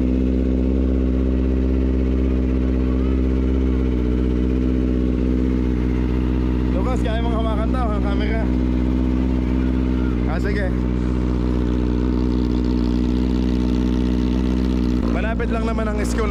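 A car engine idles steadily to warm up, a loud, constant low hum that runs through the whole stretch, with people talking over it in a few short bursts.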